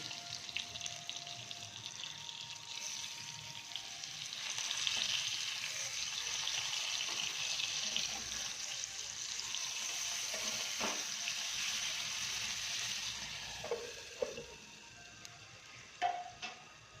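Stuffed masala bitter gourd (karela) fries gently in oil over a low flame, giving a steady, soft hiss with a few light clinks near the end.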